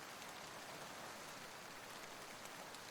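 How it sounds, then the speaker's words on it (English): Steady, dense rain falling and pattering on surfaces, a continuous even wash of sound with no clear thunder rumble standing out. "Let the sound of the rain and the distant thunder guide you"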